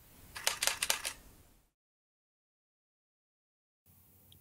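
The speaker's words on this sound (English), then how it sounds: "press and hold down the shutter button until all the photos are taken." A Canon EOS 90D fires a rapid burst of bracketed shutter clicks, about six crisp close snaps in quick succession, followed by a long dead silence and then faint room noise.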